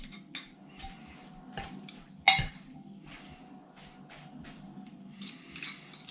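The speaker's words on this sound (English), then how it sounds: "I'm just going to then pull the pork apart with with 2 forks" Two metal forks pull apart slow-cooked pork in a crock pot, with scattered sharp clinks and scrapes against the pot at an uneven rhythm, close and clear in a quiet kitchen.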